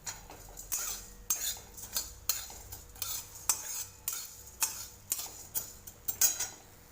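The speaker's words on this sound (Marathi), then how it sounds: "यानंतर हे धणे भाजून घेऊ" Coriander seeds being dry-roasted in a pan, with a utensil scraping and tapping the metal in quick irregular strokes, a dry rattling stir with no voices.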